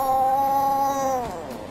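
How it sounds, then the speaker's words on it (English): A cartoon cat in an anime scene lets out a drawn-out, wavering meow or yowl that bends downward toward the end, fairly close and alone with no talking over it. "it's just a cat"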